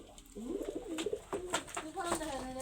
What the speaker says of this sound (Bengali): পায়রা সব পদের কবুতর আছে